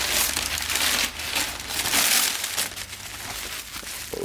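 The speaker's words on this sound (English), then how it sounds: "I feel like I'm unwrapping a Christmas present" Crinkling and crushing of plastic and paper packaging around an M4 full exhaust system with headers and gaskets, dense rustling bursts close to the microphone, continuous and fairly loud, with no speech.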